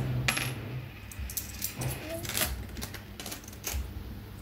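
Saved coins spill out of an opened coin bank, giving a quick clatter of small metallic clinks and jingles close by, with light rustling between them.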